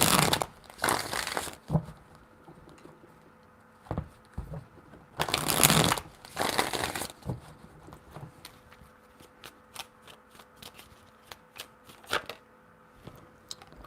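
Tarot cards are shuffled in several quick bursts of riffling and papery slaps, close and crisp, separated by quieter handling sounds and pauses.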